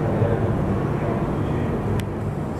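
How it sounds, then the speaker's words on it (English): An airplane takes off and flies away over Luang Prabang at night, producing a steady, loud low roar that holds throughout with a faint windy rush, and no talk over it. "There's an airplane leaving, which is so interesting."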